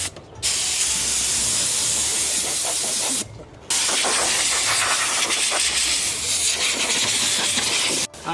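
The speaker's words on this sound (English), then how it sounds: "Compressed air." Compressed air blower used to clear sand off people at a beach in Busan, South Korea, giving a loud, steady hissing blast that runs almost continuously, broken by two brief pauses.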